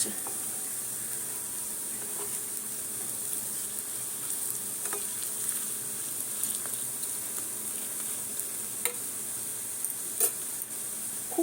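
Lentil pakoras flavoured with coriander leaves and poppy seeds shallow-fry in a little oil. The pan gives a steady, soft hiss throughout, with occasional small pops and crackles and no talking.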